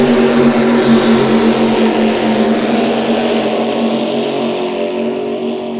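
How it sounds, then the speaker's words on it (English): An offshore superboat racing on Lake Macquarie roars past, a loud sustained drone with a slowly falling pitch as it moves away. "Here they come across the front straightaway. 222. Have a listen to the boat."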